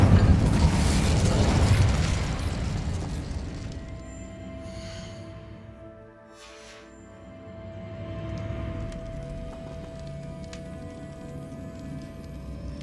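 Fiery blast from the Incendio fire spell in Hogwarts Legacy: a loud burst at the start, then a dying rumble with crackle and a long ringing tone.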